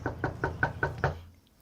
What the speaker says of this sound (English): So I went up to his room and knocked on the door.